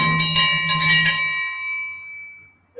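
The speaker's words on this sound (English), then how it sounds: "Ring the bell. we keep forgetting about that." A bell hangs at a house and is struck several times in quick succession, then its bright metallic tone rings out and slowly fades away.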